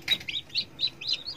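Newly hatched free-range village chicks chirping: a quick run of high, thin peeping calls, about five or six bright cheeps close by, fairly quiet over a low background murmur.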